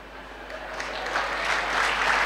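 An audience applauds at a motivational speech in Tamil, with dense, steady clapping that swells slightly louder toward the end.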